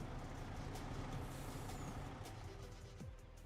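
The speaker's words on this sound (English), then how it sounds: "I hear the truck running over here." A heavy truck engine in the video game Farming Simulator 25 idles steadily with a low rumble, joined by a brief hiss like an air brake near the end; no talking.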